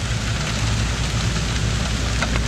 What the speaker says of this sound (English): when Mother Nature hits thunder or rain or hail, that means she's mad